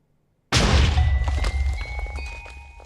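Fireworks bursting in the Minecraft video game: a sudden loud boom after half a second of silence, then a sustained crackling rumble with scattered pops and thin whistling tones that slowly fade.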